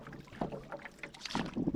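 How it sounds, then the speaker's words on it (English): Wind gusts over a fishing pond as a small boat sits out in the middle, producing a close, rushing buffet of wind noise on the microphone with faint water movement, brief and with no voices. "Yeah, the wind's really picking up now."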